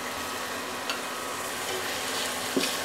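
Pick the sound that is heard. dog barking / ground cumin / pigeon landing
ground cumin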